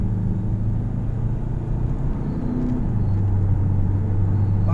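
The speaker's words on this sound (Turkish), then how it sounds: "Gaz pedalına dokunuyoruz." Volkswagen Passat 1.9 TDI diesel accelerating, heard as a steady low engine rumble and drone from inside the car, with a subtle shift in pitch partway through and no talking.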